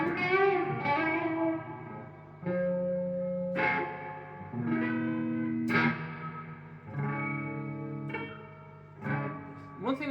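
Electric guitar notes and chords through a reverb pedal, ringing out with a long, washy reverb tail, each phrase decaying slowly into space.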